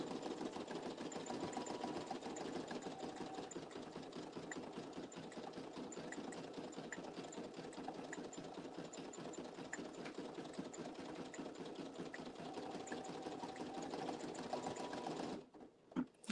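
An embroidery sewing machine runs steadily through its final stitches of an embossed design, a fast, even mechanical patter held for about fifteen seconds before stopping abruptly, with a couple of small clicks at the end.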